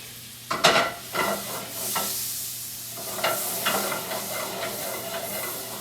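Butter sizzling and crackling in a hot pan, with a few sharp stirring scrapes and bursts over a steady hiss, close and moderately loud, no talk.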